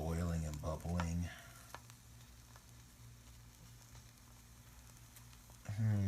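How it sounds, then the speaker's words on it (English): Soft sizzling and bubbling from eggs frying sunny side up in a pan runs steadily between brief bits of talking at the start and end. "See how the egg around it boiling and bubbling."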